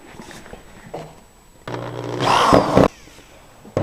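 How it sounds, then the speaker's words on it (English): A power drill drives a screw into scrap wood laid across a countertop sink opening, a single loud whirring burst of about a second after some quiet handling noises. "I'm going to drill a screw in the center of the wood."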